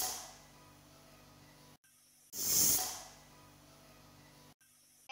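A pressure cooker vents steam in close, loud hissing bursts, a long continuous hiss broken by short gaps, with one stronger rising-and-falling whoosh in the middle.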